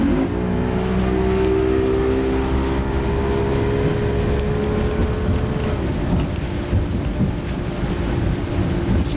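A 2005 Sea Fox 210 boat accelerates onto plane: a loud, steady engine roar runs throughout, and its tone shifts and settles partway through as the hull climbs. No one speaks.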